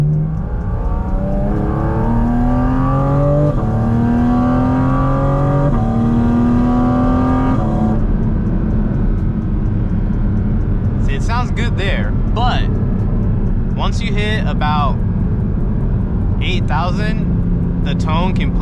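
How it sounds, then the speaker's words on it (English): Porsche supercar engine revving from inside the cabin, a loud rising induction drone with climbing harmonics that cuts off around eight seconds, then a steady rumble with short sharp engine bursts, under a speaking voice. "the induction noise that you get from the inside is like unmatched"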